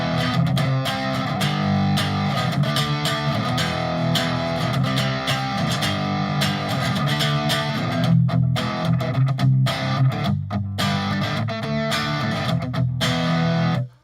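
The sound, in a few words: electric guitar through Fractal FM9 Friedman amp model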